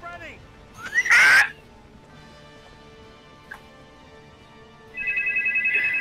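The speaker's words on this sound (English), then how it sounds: "Oh, now I'm getting a phone call." A phone rings in the video game Final Fantasy VII Remake, starting as a loud chirping burst and returning at the end as a steady, pulsing ring pattern. Quiet ambient tones hold in between.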